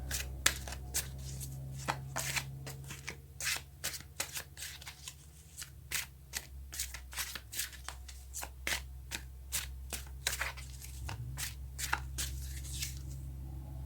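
Tarot cards being shuffled by hand, a rapid run of crisp riffling flicks and slaps repeating through the whole stretch, close and fairly quiet over a low steady hum.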